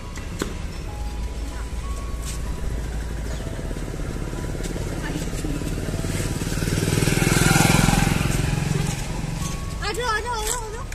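A motorcycle moving along a rainy street, engine hum swelling as it passes close by, then fading, with light rain and people talking nearby.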